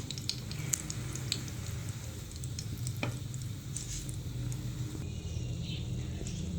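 A bread, egg and cheese sandwich fries in a pan with a steady low sizzle, broken by scattered crackles and light scraping as it is pushed around.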